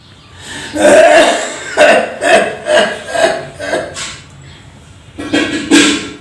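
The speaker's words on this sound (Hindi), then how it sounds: "बाबूजी खांसी आवत का" An elderly man's harsh, repeated coughs close to the microphone, in bursts with short pauses, then two more coughs after a brief gap.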